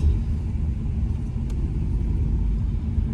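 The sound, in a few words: car with automatic gearbox being driven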